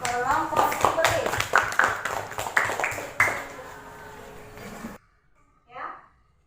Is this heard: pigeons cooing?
no